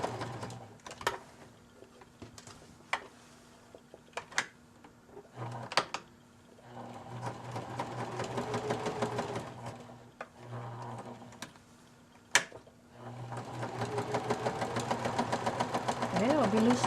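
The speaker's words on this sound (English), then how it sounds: "I'll be loosely sewing around everything." Sewing machine stitching loosely around pieces of a handmade journal, running in several bursts of steady motor hum and needle chatter separated by pauses, with clicks and handling sounds between runs and a person talking at times.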